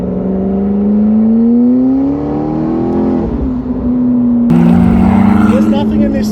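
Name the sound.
supercar engine revving in track mode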